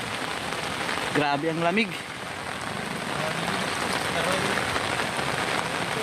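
Heavy rain pouring steadily on a riverside, a dense hiss that runs throughout while someone briefly speaks near the start.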